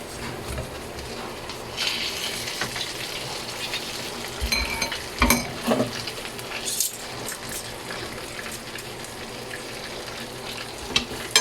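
Chicken frying in a pan with garlic and annatto oil, a steady close sizzle and crackle throughout, with brief spatter bursts and a few stirring scrapes, no talking.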